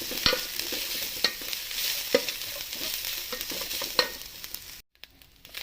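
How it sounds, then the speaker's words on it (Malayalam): Grated coconut is stirred into a pan over low flame, giving a soft sizzle with several distinct spoon scrapes and taps, close up, ending in a brief silence. "മുറി തേങ്ങ തിരുമിയത് ഇതിനകത്തേക്ക് ചേർത്ത് കൊടുക്കാം നന്നായിട്ടൊന്ന് ഇളക്കി യോജിപ്പിക്കുക"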